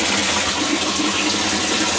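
Steady rushing and splashing of water as an aquaponics sump pump runs continuously, a constant close wash with no pauses.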